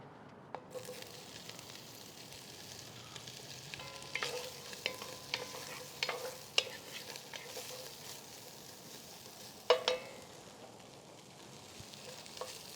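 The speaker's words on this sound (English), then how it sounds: "we're gonna brown it off now" Andouille sausage browns in a tablespoon of chili oil in a pan over medium heat, a faint, steady sizzle with scattered small pops and crackles throughout, no voices.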